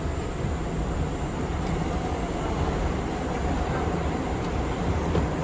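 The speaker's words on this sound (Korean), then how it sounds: "지하철 급행 타고 갑니다." Riding inside an express subway train in New York brings a loud, steady rumble of wheels and car noise with a continuous hiss, without any pauses.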